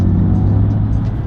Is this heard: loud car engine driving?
yes